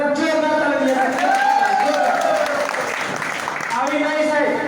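A seminar audience bursts into applause, sustained dense clapping that fills the room and continues for several seconds while a voice speaks over it.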